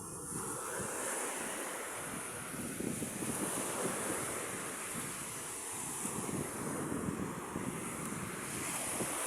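Strong ocean waves surge at high tide near a shoreline, a steady loud wash of surf with wind buffeting the microphone throughout, no voices.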